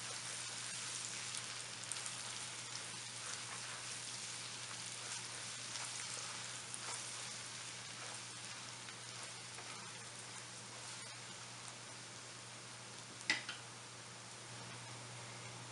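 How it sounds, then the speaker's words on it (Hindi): Chopped garlic and ginger sizzle in a pan, a steady, faint crackling hiss with scattered pops and one sharper click near the end, no voices present. "लहसुन अदरक हमने 1 मिनट फ्राई करना है।"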